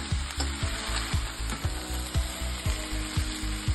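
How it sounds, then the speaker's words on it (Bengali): A spatula stirs boiled Maggi noodles frying in oil in a pan, giving regular scraping strokes about twice a second over a constant close sizzle. "এবার এই ম্যাগিগুলোকে আমি একটু খুন্তির সাহায্যে ভালোভাবে নেড়ে নিচ্ছি"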